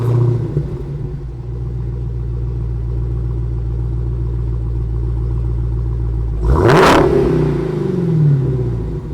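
A 2019 Dodge Challenger Hellcat wide body in Plum Crazy Purple idles with a loud, deep rumble, then bursts into a sharp, roaring rev before settling back, close and alone.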